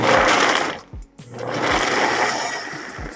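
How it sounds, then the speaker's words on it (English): A food processor pulses garbanzo beans with walnuts for a vegan meatless meatloaf, giving two loud grinding whirs, the first short and the second longer, separated by a brief pause. "I'm just going to pulse these until"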